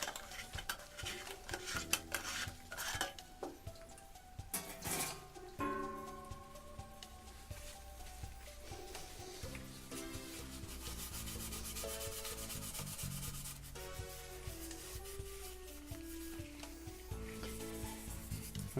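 Part from a Sunbeam T-20B toaster scrubbed with a brush while soaking in acetone, a close, continuous scratchy rubbing with faint metallic clinks, under steady musical background.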